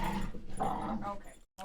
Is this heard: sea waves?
no